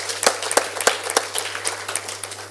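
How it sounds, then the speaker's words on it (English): Scattered audience clapping at a pharmaceutical society conference, a sparse handful of distinct hand claps in an uneven rhythm with light, thin applause between them. "We can give him a good clap."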